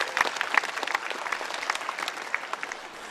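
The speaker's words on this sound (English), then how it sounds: "Let's give her a round of applause." Applause from an audience at a Christchurch expo fan Q&A, scattered sharp claps blending into a steady patter that gradually thins toward the end.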